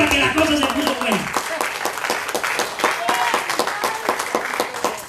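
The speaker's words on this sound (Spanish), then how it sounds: "¿A que no le dan un aplauso ahora que la cosa se puso buena?" A church congregation breaks into applause during a Spanish-language sermon, lively clapping with audible individual claps at a brisk rhythm, starting as a voice and musical tone fade and continuing strongly.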